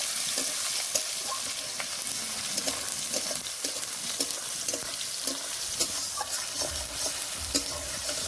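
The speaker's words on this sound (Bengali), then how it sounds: "পেঁয়াজ কুচি টমেটো কুচি ভালো করে ভেজে নেবো" Chopped onion and tomato fry in a pan for a light rohu fish curry, giving a close, continuous sizzle and crackle. Quiet stirring clicks and small pops recur throughout.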